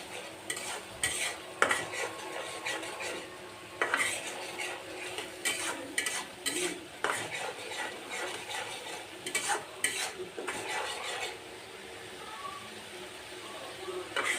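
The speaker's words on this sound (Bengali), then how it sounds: "লবণ দিয়ে মশলাটাকে ভালোভাবে কষিয়ে নিব।" A spice mix with salt is stir-fried in a pan, with repeated scraping and clinking of a spatula over a low sizzle, close and rhythmic, with no talk.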